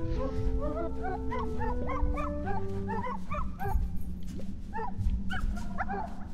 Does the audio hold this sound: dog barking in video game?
yes